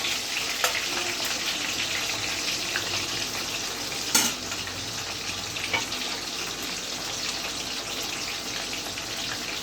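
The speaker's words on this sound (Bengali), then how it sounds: "এটা হচ্ছে 2 বার করে ভাজতে হয়।" Korean-style chicken frying for the second time in hot oil: a steady, fairly loud bubbling sizzle runs throughout, with an occasional sharp clink of a utensil against the pan.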